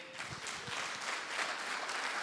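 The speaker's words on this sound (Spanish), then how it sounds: "Ese aplauso es para vos por estar acá." A church congregation claps during a Sunday service, a soft, dense patter of many hands heard faintly and without a break.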